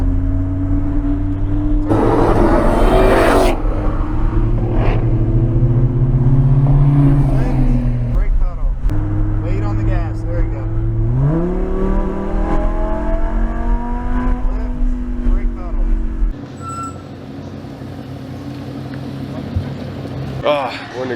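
A Lamborghini Huracan engine on a race track, loud and close, droning then swelling into repeated rising accelerations with gear changes and lifts, with a driver's voice speaking over the roar.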